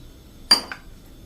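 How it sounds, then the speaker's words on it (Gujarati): A spoon clinks sharply against a bowl once while mixing cornflour with water into a slurry, followed by a lighter second tap, in an otherwise quiet room. "આમાં 1 ચમચી આપણે પાણી નાખીને અને આને મિક્સ કરી લેશું"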